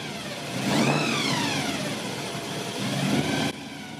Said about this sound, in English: Volunteers revved up their fleet of cars